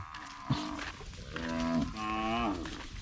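Free-grazing cattle crossing a road moo in long, deep, drawn-out calls, with one lowing rising and falling after a brief thump. The calls are fairly close and clear, with no voices over them.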